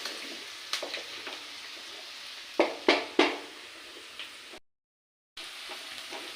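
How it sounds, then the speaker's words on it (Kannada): A tempering of peanuts fries in a pan, with a faint sizzle under a few sharp pops and clinks of utensil against the pan. "ಒಗ್ಗರಣೆ ಬೆಂದಿದೆ ನೋಡಿ."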